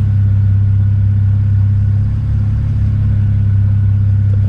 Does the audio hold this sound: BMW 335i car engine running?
yes